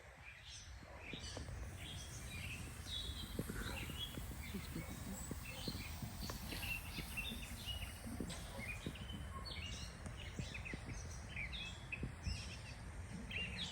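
Birds chirp in scattered, bright bursts around a state park campsite in the evening, moderately close over a soft outdoor background and low rumble, with no talk during the stretch.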